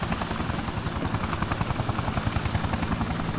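A helicopter in the video game Vivisector whirs with a steady, loud rotor chop, rhythmic blade thumps pulsing continuously throughout with no voices over it.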